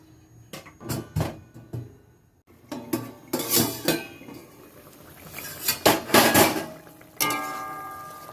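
A pot of fish curry with potatoes boiling in it is covered with a lid. Sharp metallic clanks and clatters of utensils and cookware come in uneven bursts, loud and close, with quieter gaps between them.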